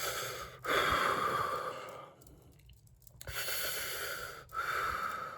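Slow, deep breaths drawn close to the microphone: a long loud inhale or exhale, a quiet pause, then two more heavy breaths, with no talking.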